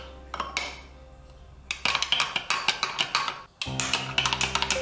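Red velvet cake batter with red gel food color is mixed in a bowl, giving rapid repeated clinks and scrapes of a utensil against the bowl in close, rhythmic bursts with a short pause midway.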